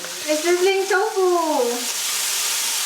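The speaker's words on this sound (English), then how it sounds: "there's a sizzling! A sizzling tofu!" Tofu sizzles on a hot plate in a steady, crackling hiss, while a voice briefly exclaims over it at the start.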